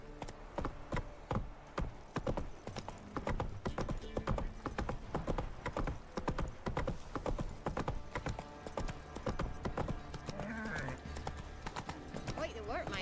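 Horse hooves clip-clop steadily in The Witcher 3, a brisk rhythmic gallop of hard knocks throughout, with game dialogue and a commentator talking over it.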